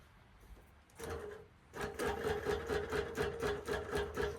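A longarm quilting machine bastes a quilt with long stitches, starting with a brief hum, then settling into a steady, rhythmic run of close stitching pulses that carries on without talk.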